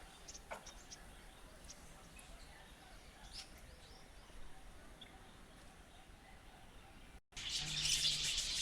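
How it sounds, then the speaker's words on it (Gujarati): Colourful sparrows chirp faintly at Rajkot zoo, Pradhyuman Park, in Gujarat. Scattered short tweets sit over a steady outdoor hum, and a louder hiss breaks in near the end. "મિત્રો અહીં અનેક રંગબેરંગી ચકલીઓ છે, જોઈ લો."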